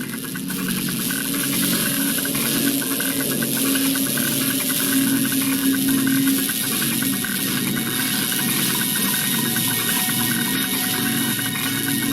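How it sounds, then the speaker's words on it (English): In the video game Broken Sword 3: The Sleeping Dragon, an inventor's machine linked to cylinders splutters like an engine starved of fuel, a steady rattling, hissing mechanical drone with faint tonal whines, constant and fairly loud throughout. "The machine spluttered like an engine starved of fuel."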